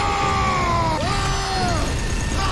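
Drawn-out, pitch-bending scream from the Warhammer 40k: Space Marine video game, loud and sustained for a couple of seconds before cutting off abruptly.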